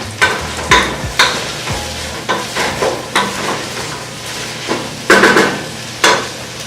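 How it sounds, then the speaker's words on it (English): Sweet mashed potatoes with tuna are stirred around in a pan: thick, sticky scrapes land in an irregular rhythm over a low sizzle, loud and close, with no speech. "I'm going to stir it around again"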